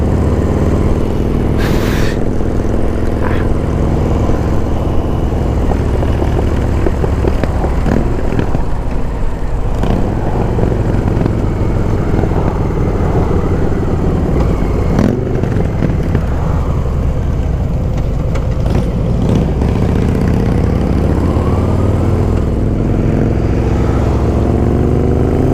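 A 2019 Harley-Davidson FXDR motorcycle engine runs loud and steady throughout, a continuous low rumble with no pauses and no voices.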